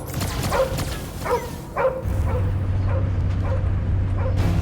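Cosmo, the space dog in the Guardians of the Galaxy video game, gives a series of short, sharp yips and whimpering barks at a steady pace, close and distinct over a low droning background hum.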